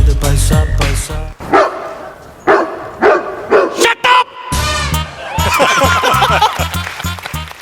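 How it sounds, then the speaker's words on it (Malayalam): A dog barks repeatedly at close range, sharp, loud yaps and woofs in bursts mixed with people talking over and between them. "ഞങ്ങളല്ല കുറച്ചത് പട്ടി"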